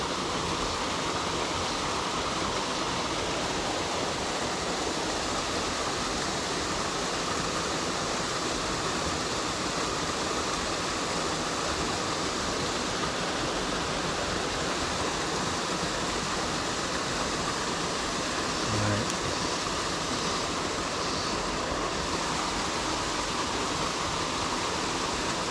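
A waterfall on the Rose River in Shenandoah National Park gives a steady, dense rush of water that continues unbroken throughout, loud and close, with no other sounds standing out.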